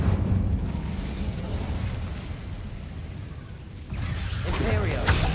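Incendio fire spell cast in the Hogwarts Legacy video game: a sustained rumbling, roaring blast with a brief dip, then a renewed fiery surge and crackle near the end, loud and close.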